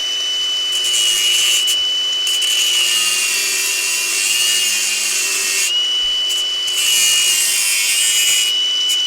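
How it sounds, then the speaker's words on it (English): An angle grinder with a cutting disc slices through a failed exhaust flexi pipe on a BMW 1 Series E87: a loud, continuous metallic whine with a steady high tone, dipping briefly partway through before surging again. "There's enough room to move the angle grinder around and cut it off."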